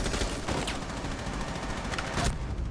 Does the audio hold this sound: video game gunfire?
yes